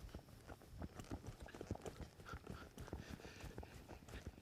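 A horse trots under a rider during a neck-rein guiding exercise, its hooves clip-clopping in a quick steady rhythm, fairly faint and close, with no voices.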